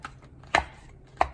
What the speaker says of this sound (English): We've cut up some of them, but we're going to show you how we cut them.